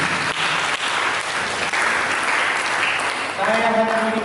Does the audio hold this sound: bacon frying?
no